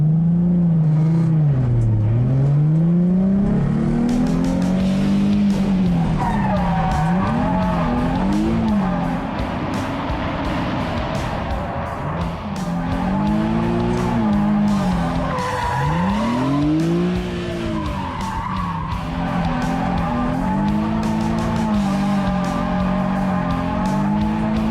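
A Chevrolet Trailblazer drifts around a barrel marker on clutch, turn and e-brake, its tires squealing and skidding in long wavering howls over a loud, steady engine roar, with no talking.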